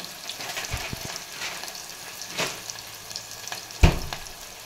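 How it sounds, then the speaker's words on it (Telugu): Green chillies, dried red chillies, onion and peanuts frying in a pan for rava upma, with a soft steady sizzle broken by a few sharp stirring clatters and one louder utensil knock near the end. "2 పచ్చిమిర్చి, ఉల్లిగడ్డ కూడా వేసి వేగుతున్నప్పుడు"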